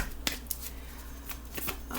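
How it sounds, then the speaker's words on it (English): A deck of playing cards shuffled during a tarot reading, giving a few sharp riffling bursts over a steady papery rustle, close and fairly quiet with no talking. "That seems like a good shuffle."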